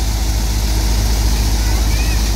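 A Swaraj 963 FE tractor's diesel engine runs steadily close by, a continuous low rumble that holds even throughout, with faint voices in the background.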